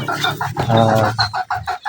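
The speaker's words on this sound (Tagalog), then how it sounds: "Yun ang aking mga manok mga idol." Several chickens clucking nearby in short repeated bursts, with a louder drawn-out squawk in the middle.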